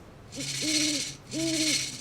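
Owl in the Gravity Falls cartoon giving two clear, close hoots, each paired with a shaking rattle like a maraca.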